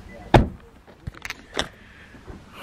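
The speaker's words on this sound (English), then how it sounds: "roll up the windows" A car's power windows being raised while the vehicle is parked on a mountain trail in Grand Teton National Park, heard as a few short mechanical thumps and whirring pulses close by, with a sharp click near the start.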